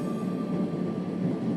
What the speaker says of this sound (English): So we're in a train car, like a storage car.